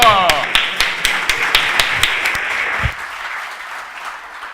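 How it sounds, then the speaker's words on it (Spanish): Audience applause after a speaker's call for a round of clapping, starting as a dense burst with a few distinct sharp claps and then thinning and fading over a few seconds. "¡Un aplauso!"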